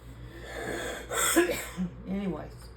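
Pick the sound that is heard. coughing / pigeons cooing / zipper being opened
coughing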